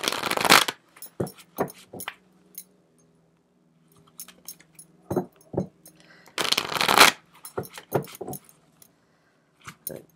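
A deck of oracle cards being shuffled in repeated bursts of riffling and slapping, with short pauses between handfuls, close and fairly loud with no talk.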